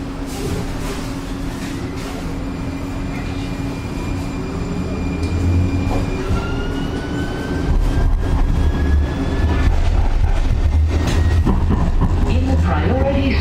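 A train pulls away from a station, a steady rumble and hum building in loudness with rising motor whine tones, under a continuous low drone of rolling stock.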